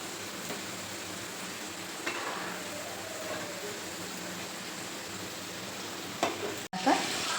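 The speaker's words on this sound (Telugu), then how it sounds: "స్లోలో హైలో పెట్టుకుంటూ ఈ కలర్ వచ్చేంత వరకు, బ్రౌన్ కలర్ వచ్చేంత వరకు వేయించుకోవాలి" Grated coconut frying in a pan until brown for modak, a steady close sizzle with a couple of soft stirring clinks near the end.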